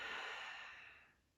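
A slow, deep inhale taken during a seated chair yoga session for seniors, a soft airy breath sound lasting just over a second that fades gently toward the end, heard alone with no talking.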